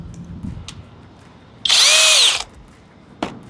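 A FLEX hammer drill in turbo mode drives a one-inch, two-flute self-feeding auger bit through wood in a single loud, close burst of under a second, with quiet clicks before and after.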